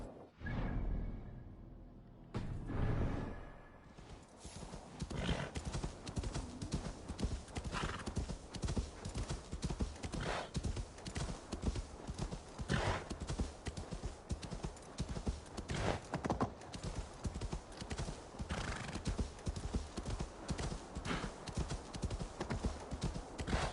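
Rhythmic clip-clop of horse hooves in the video game Assassin's Creed Valhalla, steady and close, with a whinny at the start and occasional swishing sounds in a game-like mix.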